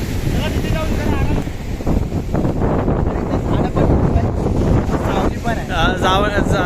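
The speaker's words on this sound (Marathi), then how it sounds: "थंड वारा आहे" Steady wind at Juhu Beach, Mumbai buffets the microphone in a continuous roar, with a voice talking over it throughout.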